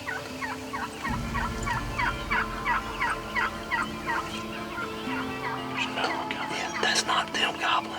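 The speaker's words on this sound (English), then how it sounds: "We got a hen out front. She's calling." A wild turkey hen yelps in a long, evenly spaced series of short calls, followed by a faster, louder burst of notes, while soft whispered talk runs underneath.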